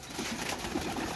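Soft pigeon cooing from show pigeons kept as breeding pairs, a steady low murmur lasting about a second, close and moderately loud with no talk over it.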